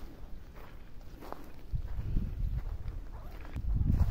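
Footsteps crunch through dry ground cover in a dense acacia forest at a bird sanctuary, uneven and close, growing heavier toward the end against a quiet outdoor background.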